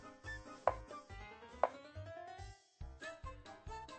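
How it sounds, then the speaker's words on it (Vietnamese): A knife dicing squid tentacles on a cutting board, giving a steady run of soft, close chopping thuds under background music. "về phần dè và rau mực thì các bạn thái hạt lựu"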